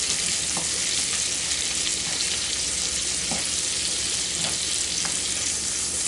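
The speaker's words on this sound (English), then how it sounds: "I just got it and just stir it up to get the butter all around it" Noodles cooking in butter in a pan, a loud dense sizzle throughout with a few light stirring taps, heard up close and alone.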